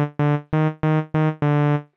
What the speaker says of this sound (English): A saw wave right here.